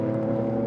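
A Porsche GT race car from Dick Barber Racing on the Portland circuit gives a loud, sustained engine drone with a strong steady pitch during an ALMS race, very brief and close.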